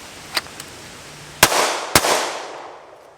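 Gunshots from a Springfield Hellcat compact pistol fired from concealment at a range, two loud sharp cracks about half a second apart, each trailing off in a ringing echo, after a couple of faint clicks.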